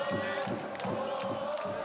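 Football fans keep up their team's supporting cheer, a crowd's voices swelling in rhythmic pulses of chanting and shouting at moderate distance, steady across the short stretch.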